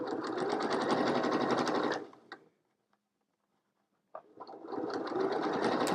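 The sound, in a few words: sewing machine stitching fabric with gray thread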